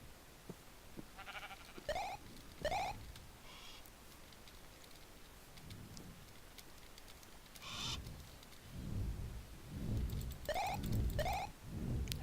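Sheep in the Minecraft video game give several short, separate bleats spread across the stretch, fairly faint, over a low background of game sounds.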